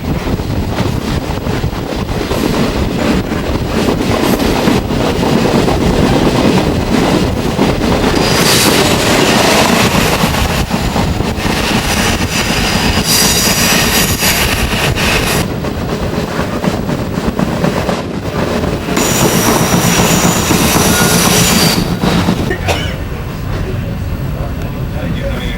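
Passenger train rolling through British Columbia, a constant loud rumble of wheels and carriage noise with wind buffeting the microphone and intermittent bursts of rattling and hiss.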